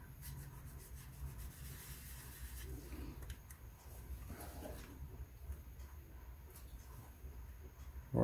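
Soft, close rubbing strokes as weathering is worked off a 1:25 AMT 1934 Ford truck plastic model, a faint continuous scuffing with brief pauses and no talk.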